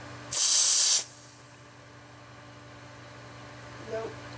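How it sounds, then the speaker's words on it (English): A single loud, close burst of freeze spray hissing onto an Asteroids arcade circuit board for under a second, then quiet room hum and a faint brief voice near the end. "I'm gonna hit with some freeze spray."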